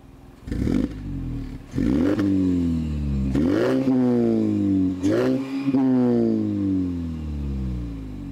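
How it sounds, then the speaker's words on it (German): Mazda CX-30 fitted with an aftermarket sport exhaust revved in several short blips while stationary, the engine note rising and falling four times with a throaty, raspy exhaust tone, loud and close. "Jetzt hören wir uns mal den Motor an und dann den Auspuff, wie er sich verhält, wenn wir ein bisschen Gas geben."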